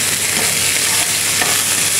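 Root vegetables sizzle in a hot pan on a low flame while tongs stir and shift them, a steady close frying hiss with soft scraping, no talk.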